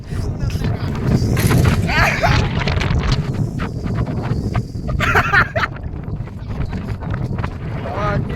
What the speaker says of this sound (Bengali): আস্তে আস্তে হাওয়া দিচ্ছে আমাদের এদিক দিয়ে হাওয়াটা আসছে